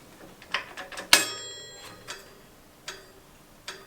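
Bicycle disc brake rotor on an Avid BB5 mechanical brake ticking as the wheel spins, with light irregular metallic clicks and one louder ringing scrape, close up with no talk.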